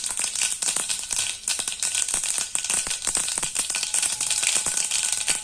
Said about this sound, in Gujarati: રાઈ અને ફૂટવા દેવાની છે.